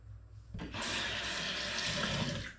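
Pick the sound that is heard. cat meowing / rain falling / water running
water running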